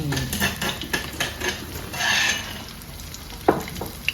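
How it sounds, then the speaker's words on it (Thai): Chili and garlic stir-fry in hot oil for a Thai spicy seafood dish, with a steady close sizzle, repeated scraping and stirring strokes of a utensil in the pan, and a sharp metal clank near the end. "พริกกับกระเทียมนี่พอเวลา ผัดกับน้ำมันนี่เป็นอะไรที่หอมมากเลยนะ"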